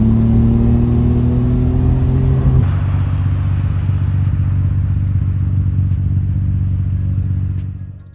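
A heavily tuned Nissan Skyline R34 GT-R V-Spec II engine hums loudly and steadily with a deep rumble, briefly whining higher before dropping to a lower drone, then fading out at the end.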